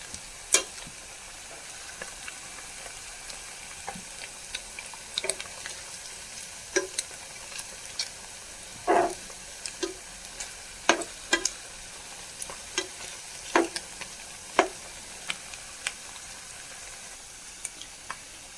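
Beef finger fry sizzles steadily in hot oil in a pan, with sharp clicks and scrapes at irregular intervals as the pieces are stirred and turned.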